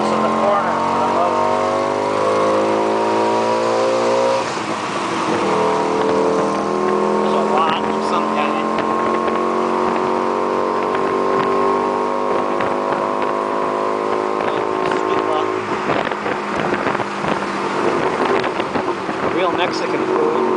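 Tuk tuk engine driving through Thailand past a city moat, a steady droning motor with shifting pitch that runs throughout, loud and close, with road and wind noise around it and some voices at times.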